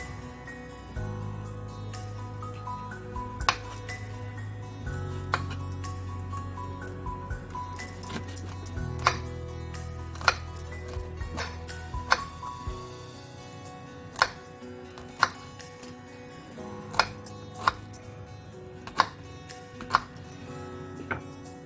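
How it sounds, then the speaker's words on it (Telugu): Knife slicing bitter gourd into thin pieces on a cutting board, a series of sharp, evenly spaced taps that grow clearer and more regular in the second half, with a low hum underneath. "ఇలా సన్నగా కట్ చేసి గింజలను తీసేద్దామండి"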